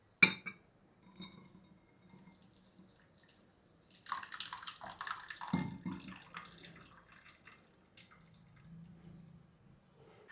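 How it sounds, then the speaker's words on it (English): Warm water is poured into a container of chia seeds, heard as faint splashing and trickling with a few light clinks, swelling midway and then tapering off, with no talking. "I want you to bring your warm water to the container which contains your chia seeds"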